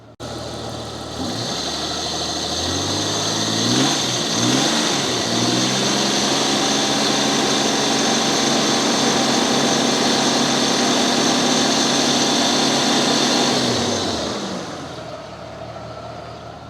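An engine revving up in a workshop as the accelerator is pressed, rising in pitch to a high steady whine that holds for about ten seconds before dropping back to idle; loud, close and with no talk.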